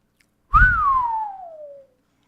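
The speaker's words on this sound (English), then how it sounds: "I got to give you the double whistle" A single loud human whistle, sharp rising onset then a long gliding fall in pitch lasting over a second, alone in silence.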